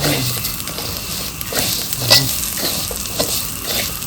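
Raw rice grains stir-fried in a pan for Thai chicken rice give a steady close sizzle, broken by irregular scraping strokes of the spatula every half second or so, with no talking.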